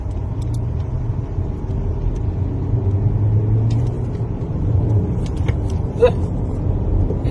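A car engine in rally mode idles and revs with a steady low rumble close by, holding a constant drone with a slight swell around the middle and a brief clatter near the end.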